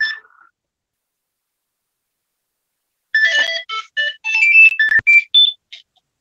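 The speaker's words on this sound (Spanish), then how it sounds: "Espera que voy a apagar un teléfono." A mobile phone ringtone plays a bright, clear electronic melody of quick chiming notes for about three seconds, loud and close, after a short beep and a stretch of silence.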